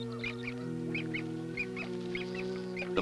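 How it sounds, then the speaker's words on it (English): Snow goose gander on the arctic tundra nesting colony giving repeated short honks in a steady rhythm, fairly close, over a low steady hum. "Suddenly, the guardian gander spots potential danger."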